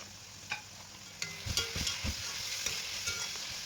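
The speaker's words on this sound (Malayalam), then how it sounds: "ഇനി നമുക്ക് നേരത്തെ നമ്മൾ അരിഞ്ഞു വെച്ചിരിക്കുന്ന തക്കാളി ക്യാപ്സിക്കം എന്നിവ ചേർത്ത് നന്നായിട്ട് അതൊന്ന് വഴറ്റിയെടുക്കണം" Chopped tomato and capsicum sauté in a pan for a Kerala-style chicken roast, with steady close sizzling and spoon scrapes and stirring taps repeating over the frying.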